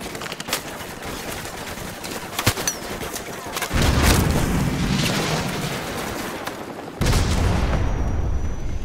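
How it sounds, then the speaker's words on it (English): Stinger missile launcher fired in Call of Duty: Modern Warfare Remastered, a loud whooshing launch roar swelling near 3.7 seconds and a second blast near 7 seconds, over constant battlefield noise with scattered gunfire. "grab another Stinger and fire again!"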